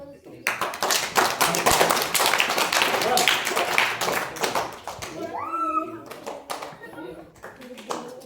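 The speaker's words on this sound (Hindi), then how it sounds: "चलो इधर तालियां" Children in a value-education class clap their hands together in a fast, sharp, rhythmic burst lasting several seconds, close and loud, followed by children's voices talking.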